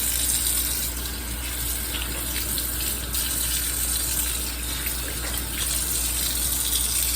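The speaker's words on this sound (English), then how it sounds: "Let's get some more water in here." Tap water gushes steadily into a baby bath, a constant close, loud rushing splash that continues without a break and with no one talking.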